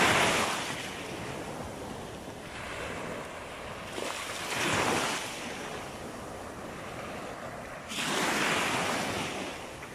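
Sea waves break on the shore at Kefken at sunset, with surges swelling around four and eight seconds over a steady wash and some wind noise, no voices.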